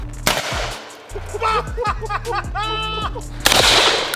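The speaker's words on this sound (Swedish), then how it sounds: "Nu är det dags att skjuta hagel." Two loud, sharp shotgun blasts, one at the start and one near the end, with people talking and laughing in between.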